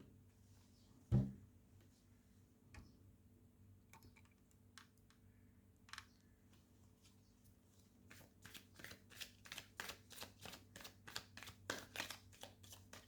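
Tarot cards are shuffled close by: a few scattered taps and handling sounds come first, then a rapid run of crisp riffling clicks fills the second half, with no speech.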